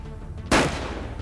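One sharp, loud gunshot cracks out midway, then fades into a brief echoing tail over a low background hum.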